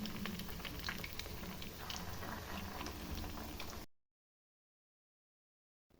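Flattened rice pitha fry in hot oil over a medium flame, giving a soft continuous bubbling sizzle for about four seconds before cutting to silence.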